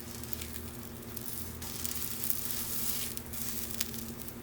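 Banana foster French toast sizzles steadily in a pan over medium-high heat, a continuous close frying hiss with small pops and no talking.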